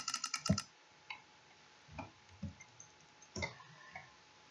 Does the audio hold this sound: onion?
no